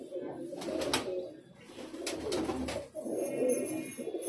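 Highflyer breeding pigeons coo in a loft in Amravati, several soft, throaty calls in repeated bursts nearby with brief rustling between them.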